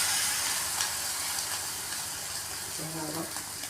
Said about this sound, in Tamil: இந்த கடாயில் எண்ணெய் தாளிக்கிற கரண்டியில் தான் எண்ணெயை ஊற்றி ஒரு